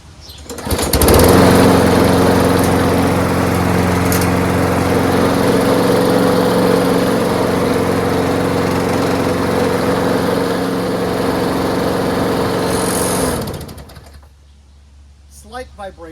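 A Craftsman 21-inch push lawn mower with a 6.5HP Briggs Quantum engine runs loud and close with a steady droning hum for about twelve seconds, then shuts down, followed by a few faint bird chirps.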